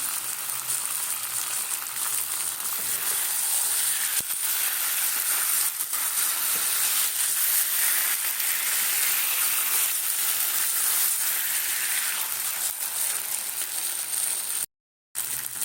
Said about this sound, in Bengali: পনিরগুলো আবারও একটু এই মশলার সঙ্গে নাড়িয়ে নিচ্ছি